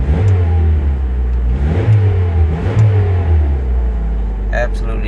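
A Honda CRX engine running close by, its rumble rising into several throttle blips and revs before settling back, with someone talking over it.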